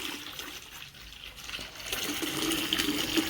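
Water gushing and splashing into a bucket while preparing a mead wash, a steady pour that grows louder and more bubbly toward the end.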